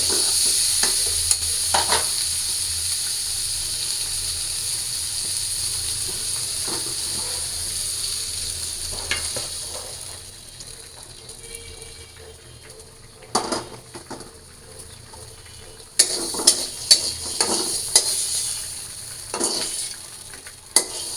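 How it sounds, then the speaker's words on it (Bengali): Vegetables sizzle steadily in a pan with a constant hiss, broken by occasional scraping and clinking of a utensil, louder bursts near the end. "এই যে আমি হালকা হালকা করে সবজিগুলো ভাজা নিচ্ছি"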